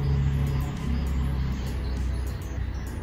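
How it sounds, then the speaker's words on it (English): Steady street traffic rumbles outside a room, a continuous low roar of passing cars and engines that stays constant throughout, with faint ticks and small sounds over it. "Traffic sound."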